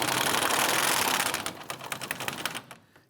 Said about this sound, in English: We're going to use our 13mm socket with extensions and go ahead and loosen